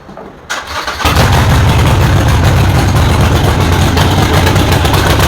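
A car engine cranks and catches, then settles into a loud, steady idle that runs alone to the end.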